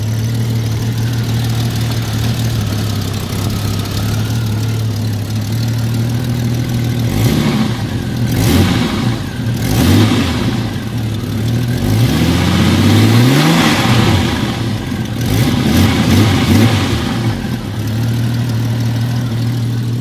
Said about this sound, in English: Jeep sounds like with four-hole injectors and probably an exhaust leak